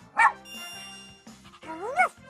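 Two cartoonish dog barks from a Super Why! video game, the first near the start and a second, rising bark around two seconds in, set over soft background music.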